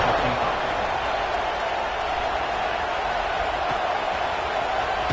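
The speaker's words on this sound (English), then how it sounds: "this crowd is buzzing after that last score" A football stadium crowd buzzes with a steady, dense roar after a score at a college game, a continuous wash of noise with no breaks.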